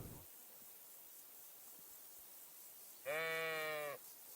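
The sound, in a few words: sheep bleating in video game Kingdom Come Deliverance 2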